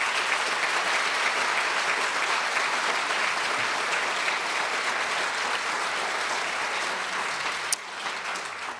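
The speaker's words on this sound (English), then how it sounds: "I'd like to give them a round of applause." Steady, dense applause from a lecture audience honoring donors, a continuous wash of many hands clapping at even volume that eases slightly near the end.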